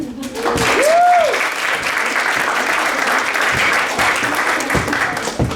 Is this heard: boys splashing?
no